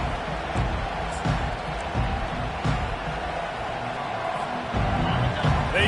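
A stadium crowd roars steadily at an LSU vs UCF college football game, a broad continuous wash of cheering with a few sharper swells and louder bursts near the end.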